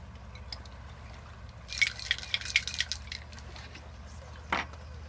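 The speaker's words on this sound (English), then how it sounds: "And we'll give that a shake." Cocktail shaker with ice, rum, lime juice and grenadine for a Detroit Daisy, shaken in a quick burst of rhythmic rattling clacks over a low background hum, followed by a single sharp knock.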